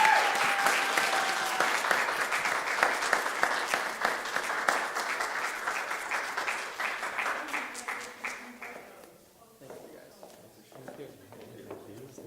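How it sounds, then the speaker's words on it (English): A crowd applauds steadily after a piano concert at Concordia University, fading gradually over about nine seconds, with voices chatting underneath as the clapping dies out. "Please give them one more round of applause."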